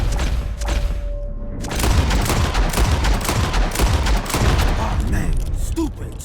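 Shotgun-style blasts fired at birds during a hunt, a dense run of shots and booms over steady outdoor noise, loud and close, with voices mixed in.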